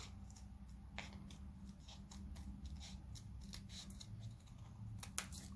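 Steady close-up snipping of scissors slicing through paper, a run of soft crisp cuts with a sharper click near the end, no voices.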